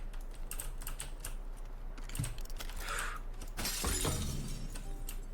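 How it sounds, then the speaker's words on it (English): Glass shatters in a video game, a bright burst near the end amid steady rapid keyboard typing and clicks, with a smaller crash just before; no talking. "I just broke glass, he knows I'm here"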